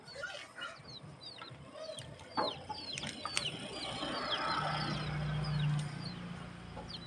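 Several chickens cluck and chirp close by with short, repeated calls over a low outdoor rumble, and no one speaks.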